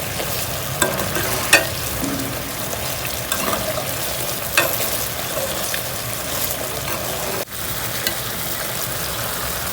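Amla murabba sugar syrup cooking down until sticky, stirred in the pot: a continuous bubbling sizzle broken by scattered spoon scrapes and clicks, no talk.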